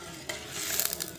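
A spoon stirs turmeric into mung dal cooking with pui stalks in a pot, making a brief, soft series of scraping strokes over a quiet simmering sizzle, with no voices.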